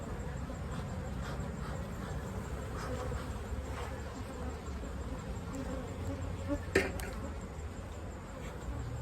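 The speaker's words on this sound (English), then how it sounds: "if there's so many bees in there, it's crazy" Agitated honeybees swarm and buzz continuously inside an opened hive, a dense steady drone close by with a brief sharp knock partway through.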